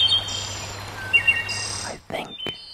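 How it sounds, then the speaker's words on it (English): Hermit thrush song among wooded pines and brush: clear, high, fluting phrases that repeat over a steady outdoor hum, with a brief sharp click near the end. "I think I hear the sweet song of the hermit thrush, our incomparable state bird."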